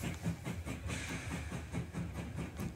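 A train moves along in a Minecraft Bedwars game, a rhythmic chugging with hissing bursts pulsing roughly every half second, steady and moderately quiet, no talking.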